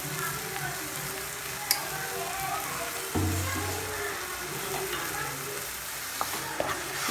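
Tomatoes and small shallots sauté in a pan for paneer kurma, with a constant low sizzle, a few sharp clinks of a spoon against the pan, and scraping stirs throughout.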